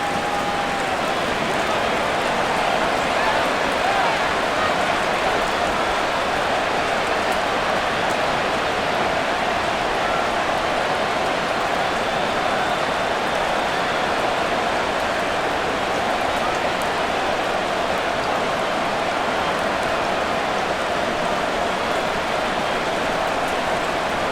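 Steady rain falls across a stadium in the American football video game Madden NFL 24, a constant even hiss with no breaks, continuing under faint commentary.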